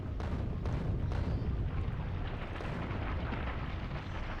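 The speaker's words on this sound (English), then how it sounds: "But here goes the artillery." Artillery barrage in Factorio Space Age, a continuous rumbling roar of heavy booms and explosions blending into a dense, loud low-frequency wash.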